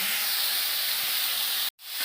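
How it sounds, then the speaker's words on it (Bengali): Water is poured into a hot pan of fried hilsa fish, raising a loud, continuous steamy hiss that cuts off abruptly near the end and then swells back up. "এবার জল দিয়ে দিলাম"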